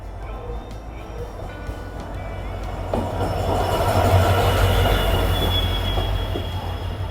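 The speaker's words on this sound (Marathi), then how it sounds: "आता आली आहे ती आपली तुतारी एक्सप्रेस थेट मुंबईवरून" A train, the Tutari Express from Mumbai, rolls into Kudal railway station with a steady low rumble and high metallic wheel squeals, growing louder as it nears.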